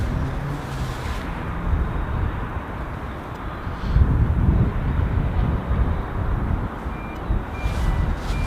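An aircraft departs Southend Airport on a new Amsterdam route, heard from the control tower as a broad, sustained engine roar that swells slightly partway through and stays steady.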